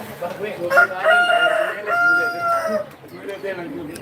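A rooster crows loudly and close by in a chicken coop, one long drawn-out call followed by softer clucking and barnyard murmur.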